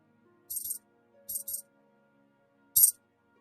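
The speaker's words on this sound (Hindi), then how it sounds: "चांदी के सिक्के?" Silver coins fall and clink in a cartoon, arriving in three short bright bursts of jingling metal, the last one sharpest, with quiet gaps between them.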